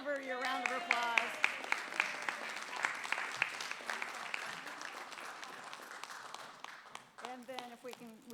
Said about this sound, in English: So please give her your round of applause